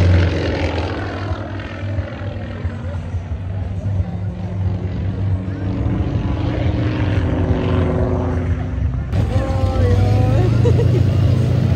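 Propeller engine of a Kukuruznik biplane used as a pilot school training aircraft at an airfield fly-in, a loud steady droning roar throughout with talking over it.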